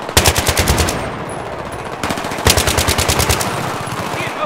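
Automatic weapon fire in Battlefield 3, with rapid bursts of shots rattling loud and close, pausing briefly near the middle before another sustained stream of rounds.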